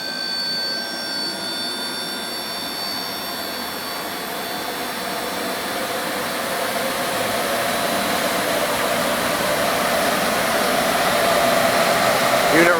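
A Torit 6600 CFM Powercore dust collector on a VFD runs with a steady, loud whooshing roar that swells gradually as it ramps up, with faint whining tones fading out early on.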